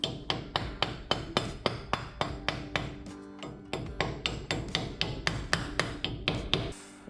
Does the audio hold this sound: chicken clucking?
no